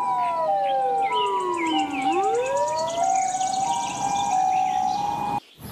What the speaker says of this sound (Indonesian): Wadidaw, ini mobil ambulans.